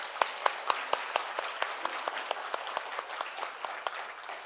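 Church congregation clapping during a Sunday service, sharp distinct claps in a fairly regular rhythm that build into a dense patter, moderately loud in a reverberant room.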